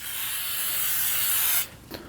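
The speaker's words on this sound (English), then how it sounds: "So go ahead and use some brake products cleaner." Brake parts cleaner is sprayed from an aerosol can onto the rear drum brake backing plate of a 2011-2016 Kia Optima, one close, loud, sustained hiss that stops abruptly, followed by faint handling noises.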